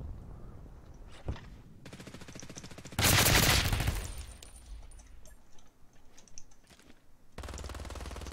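Gunshots in the battle royale video game Ring of Elysium, a loud sharp volley standing out mid-clip among quieter rapid rattling bursts, with no one talking.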